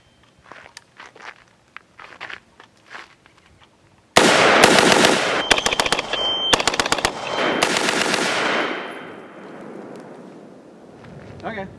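A rifle fires ten rounds of 5.56 fed from an ETS magazine at an outdoor range. After a few soft footsteps and handling noises, a rapid string of loud, sharp reports follows in quick succession, then tails off.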